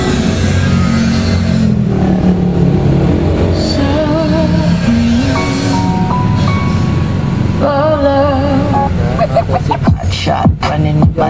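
Loud music with a thick, booming bass line plays through a JBL car audio speaker, filling the space continuously, with a few sharp thumps toward the end.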